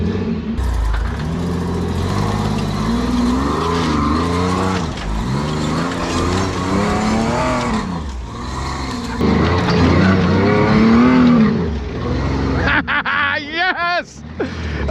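A rock crawler climbs a dirt wall beside a stump on a dry trail, its engine revving loudly in rising and falling surges, close by, with voices talking over it.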